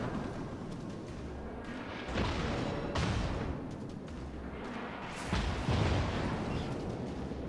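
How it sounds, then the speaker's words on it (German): Secondary battery guns of the British battleship Hood firing in the naval game World of Warships: heavy booming bursts that rise to loud peaks several times over a rumbling battle backdrop. "So, die Sekundären sind am Ballern."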